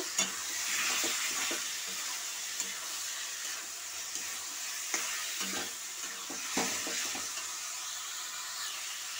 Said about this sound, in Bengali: চিকেনগুলো দিয়ে আমি ভালো করে এটা কষিয়ে নেব।